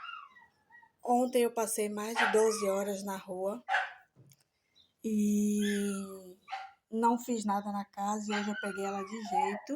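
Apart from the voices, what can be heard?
dog barking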